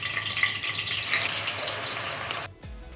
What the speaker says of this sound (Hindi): अदरक लहसुन का पेस्ट फ्राई हो चुका है